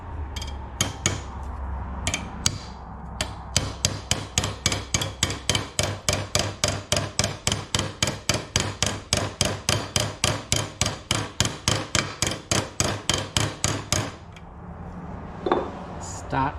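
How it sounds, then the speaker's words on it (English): Steady, rapid hammer taps on a metal round clamped in a vise, shaping a bonnet hinge jig for a pre-war Riley Brooklands; about forty evenly spaced ringing strikes, close and loud, then a pause with faint handling. "start tapping that round"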